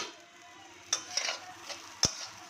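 A spoon stirs flattened rice pulao with peanuts and fried dry chillies in a pan, giving soft scraping under a low sizzle, with a few sharp clinks of metal against the pan.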